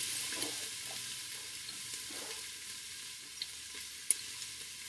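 A spoon scrapes and stirs chopped carrots, celery and onions around a pan for soup, with a soft steady sizzle underneath and a few light clicks of utensil on metal, quiet and close.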